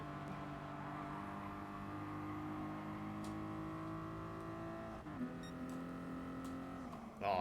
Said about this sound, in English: You can hear the whistle of the dump valve.